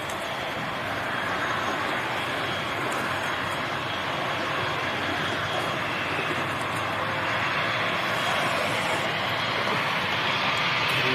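Aircraft engine noise at London City Airport fills the stretch as a steady, moderately loud jet roar that builds gradually toward the end, with no voices over it.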